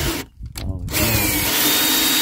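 A power drill bores holes while fitting out a box van at a camp: a loud, close, steady whine that stops briefly near the start, then restarts and runs continuously to the end, with no voices.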